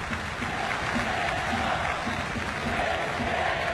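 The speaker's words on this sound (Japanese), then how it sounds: "スタンドから拍手が起こります。" Baseball stadium crowd in the stands applauds a pitcher leaving the mound after 116 pitches, a dense, continuous wash of distant clapping and crowd noise filling the ballpark.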